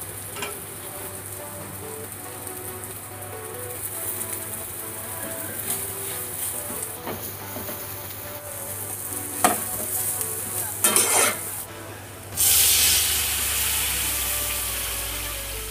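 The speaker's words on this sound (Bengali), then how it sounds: "এখন আমি কড়াইয়ে পেঁয়াজগুলোকে ভালো করে ভেজে তার মধ্যে কাঁচা লঙ্কা দিয়ে দিব" Onions fry in a wok (kadai) for a home-cooked dish, with a steady sizzle throughout. Scraping and stirring strokes cut in now and then, and a louder burst of frying comes near the end.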